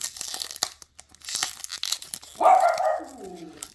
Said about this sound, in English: My dog's all upset.